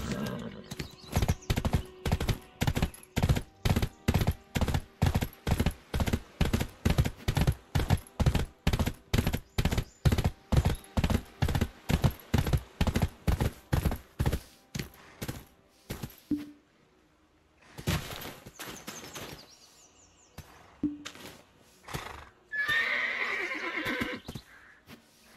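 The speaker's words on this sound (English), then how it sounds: "Horses are honest animals." A horse in the online game Black Desert Online trots with a long, steady run of loud, evenly spaced hoofbeats, then stops, neighs and whinnies close by, with no talk over it.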